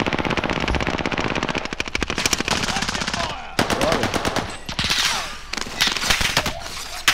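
Automatic gunfire in the Call of Duty: Modern Warfare video game, rapid bursts of loud rattling shots with brief gaps, some sharper single cracks, intense and close.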